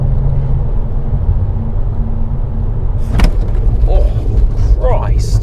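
A BMW E92 335i with the N54 engine braking hard from 100 gives a steady loud roar of road and engine noise, then a sharp burst of noise partway through.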